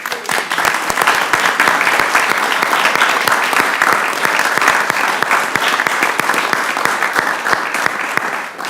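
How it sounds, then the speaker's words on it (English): A large room applauds at a congressional committee hearing, a dense steady round of clapping from many hands that holds strong and close for the full stretch with no talk. "So I wanted to make sure we all gave a big round of applause to Justin."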